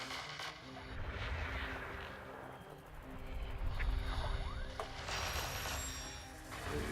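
Repeated weapon fire in a video game, sharp bursts and booms recurring throughout over a dense, rumbling game soundscape at moderate loudness, with no voices.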